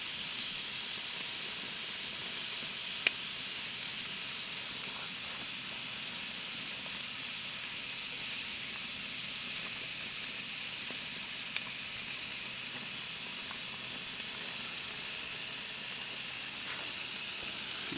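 Steaks sizzle on a Coleman camping grill outdoors in Voyageurs National Park, a continuous moderate hiss that holds evenly for the whole stretch with only a couple of faint ticks.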